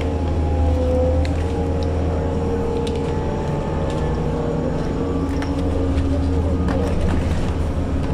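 Onboard a busy Q112 city bus in Queens, a steady low engine drone with road rumble runs continuously throughout, with faint rattles and muffled background voices from passengers.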